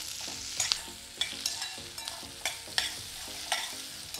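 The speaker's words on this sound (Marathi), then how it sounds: "साधारण 3 ते 4 मिनटं आपण हाय फ्लेमवर परतून घेऊया." Onions sautéing on a high flame for a Maharashtrian onion curry, a steady sizzle broken by regular scraping strokes of stirring, close and clear with no talking.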